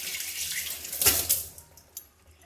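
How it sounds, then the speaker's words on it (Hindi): A small amount of water is poured onto a shampooed mop to wet it, a short splashing gush rising then fading, followed by faint drips and quiet handling noise. "इसके बाद में मैं थोड़ा सा पानी डाल कर"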